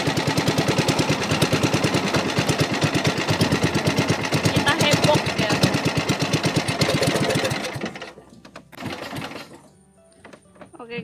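A small boat motor runs loud and close in a steady, rapid throbbing rhythm while setting a longline at a river mouth, then cuts out, leaving quieter bumps and faint sounds.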